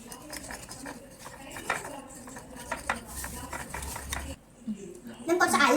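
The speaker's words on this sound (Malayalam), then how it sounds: "നമുക്ക് നന്നായിട്ട് മിക്സ് ചെയ്തെടുക്കാം." A spoon stirs a mixture in a bowl after vanilla essence has gone in, giving repeated scraping and clinking. A voice speaks over the stirring.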